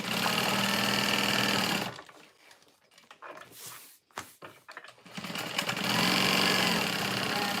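A sewing machine back-stitches a tote bag, its motor whirring steadily for a couple of seconds, stopping briefly amid faint handling noise, then running again at an even pace.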